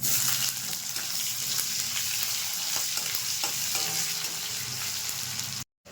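Onions fry in oil in a pan as a spoon stirs and scrapes against the metal, over a constant close sizzle that cuts off abruptly near the end.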